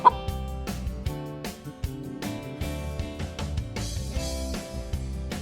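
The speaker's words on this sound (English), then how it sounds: "say hello to our busy chickens" Busy farm chickens scratching and pecking at the ground, their clucks set against a bright children's music track that dominates, with the fowl sounds faint beneath it.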